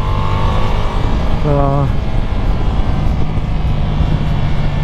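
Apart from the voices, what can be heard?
Ducati Multistrada V4S motorcycle engine on race track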